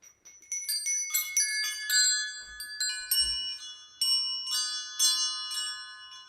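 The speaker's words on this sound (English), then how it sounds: "I'll invite the chimes." Meditation chimes ring in a quiet room, several bright metallic strikes in quick succession, some overlapping, with clear tones that ring on and slowly fade.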